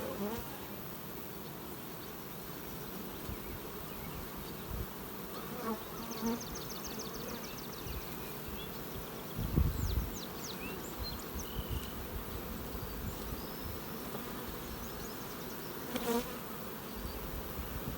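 Bees buzz steadily around an open beehive outdoors in warm weather, a continuous droning swarm with occasional louder passes close by and a few faint background knocks.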